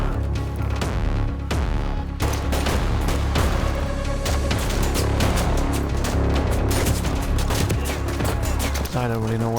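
A G3 rifle with no suppressor fires in Ready or Not, loud rapid shots and bursts packed densely and continuously from start to finish, with booming impacts mixed in.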